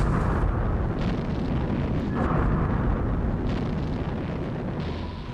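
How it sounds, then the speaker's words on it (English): Deep, continuous rumbling roar of depth charges exploding underwater, heard from inside a boat's hull, with muffled booming energy and heavy low-end pressure that swells and fades slightly. "The boat will rock a little bit, depending on how close the depth charges come."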